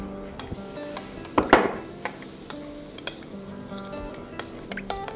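A spoon stirring celery and chicken stock in a bowl, giving scattered clinks and scrapes against the bowl with a louder clatter near the middle, close and moderately loud, with kitchen noise behind.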